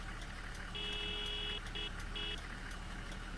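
A BB40 minibus horn in Tourist Bus Simulator honks three times: one long steady blast, then two shorter ones, loud and close over a constant engine and road hum.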